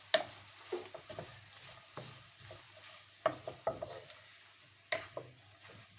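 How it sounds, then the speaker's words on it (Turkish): Torn bread is stirred into melted butter in a pan for Turkish buttered ovmaç with egg, with soft, irregular scraping taps and a faint sizzle close by. "Güzelce harmanlayıp yağı emmesini sağlayalım."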